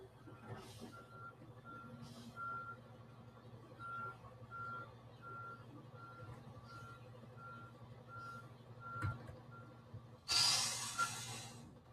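A reversing truck beeps in a steady, evenly spaced series of mid-pitched tones, heard faint and distant beneath a low background hum, with a burst of hiss near the end.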